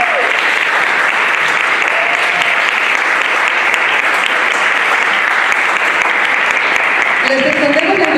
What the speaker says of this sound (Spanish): le ofrecemos por favor a Sandra Herrera un gran aplauso por su excelente, efusiva y alegre participación en la actividad del día de hoy.